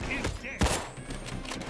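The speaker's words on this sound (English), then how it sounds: "Stop shooting at me, fuckers." Payday 2 enemy gunfire, a short volley of sharp shots with one louder crack partway through, mixed with game noise.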